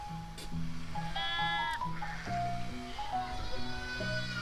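A goat bleats again and again in wavering calls close by, the cries overlapping in an uneven rhythm.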